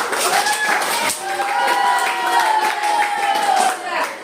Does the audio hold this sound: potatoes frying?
no